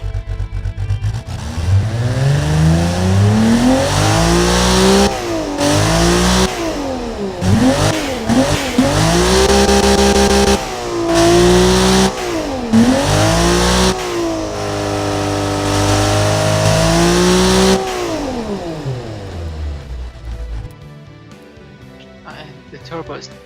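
A turbocharged car engine in a car tuning video game revs up and down repeatedly in loud sweeping pulls with a whining turbo note, then settles and fades near the end.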